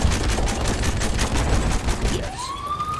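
Rapid bursts of gunfire from a video game shotgun fight crackle in a dense, loud barrage, ending with a rising siren-like tone as the shots fade out.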